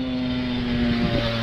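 Engine of a fully loaded Boeing 737-200 roaring at the runway threshold before takeoff at Orly airport, a steady loud drone with strong tonal hums and a slight surge near the end, with no voices.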